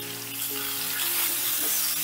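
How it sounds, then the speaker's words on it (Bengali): Pieces of raw mango, soaked in salt water, fry in a pan for pickle, giving a steady close sizzle with some bubbling and spitting throughout. "এবারে আমগুলোকেও একটু ভাজা ভাজা করে নেব।"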